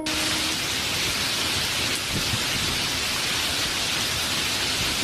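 A thunderstorm: heavy, steady rain hisses loudly throughout, with a deep rumble of thunder rolling underneath.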